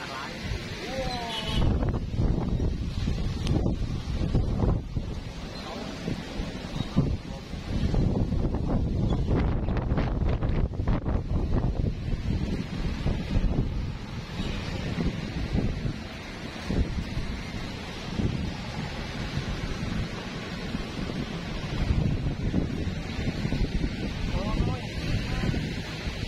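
Heavy wind gusting through a neighbourhood, a steady loud roar with buffeting against the microphone and rustling throughout, with voices occasionally talking over it.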